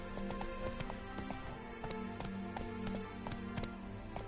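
Roach, a horse in The Witcher 3, gallops with quick, regular hoofbeats close by under a steady musical game soundtrack, with no talk.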